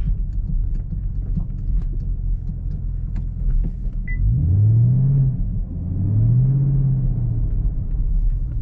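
A Camaro ZL1 rolls off pavement onto a dirt backroad, its engine a steady low rumble that swells twice into louder, rising pulls close by, with no talking.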